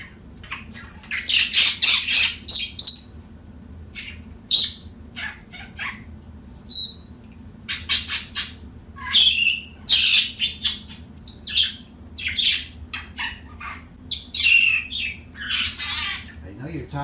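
A captive red-winged blackbird gives repeated harsh squawks and sharp chirps in irregular bursts, close and loud against a quiet low hum, with a person talking briefly in between.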